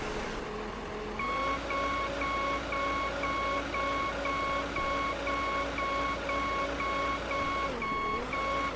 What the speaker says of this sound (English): that's a rather annoying beep